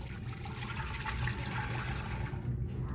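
Milk for cheese making pours steadily into a cooking pot in a close, continuous splashing gush that does not let up.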